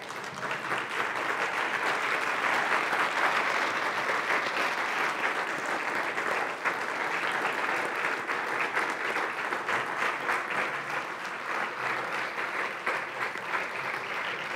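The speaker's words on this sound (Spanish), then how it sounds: "¿Le podemos dar un fuerte aplauso al Señor?" A standing church congregation claps loudly and continuously, a dense even wash of applause from a large crowd filling the whole stretch without pause.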